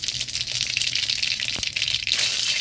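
Mustard seeds tempering in hot oil give a steady, close hiss and crackle, broadband and continuous, with a brief low thump partway through and no voices.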